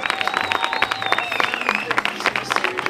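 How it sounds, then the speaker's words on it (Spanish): An audience applauds at a surfing championship awards ceremony on the Costa de la Luz in Mazagón, with brisk clapping heard under a voice speaking over a loudspeaker. "Enhorabuena, un fuerte aplauso."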